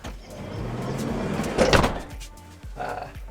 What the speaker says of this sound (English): if we shut the door